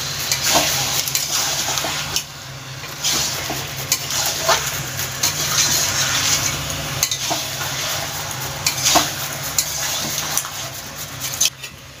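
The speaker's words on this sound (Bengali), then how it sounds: "এবার আলুটাও মশলার সঙ্গে ভালোভাবে কষিয়ে নেব।" Potatoes fried and stirred with spices in oil while cooking a Bengali chicken dish, giving a steady sizzle with repeated scraping stirs of a spoon against the pan, close and continuous with no talk.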